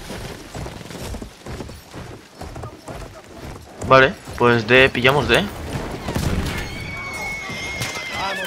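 In Battlefield 1, a horse gives a loud, close whinny midway while hooves clip-clop throughout, with someone talking over the sounds.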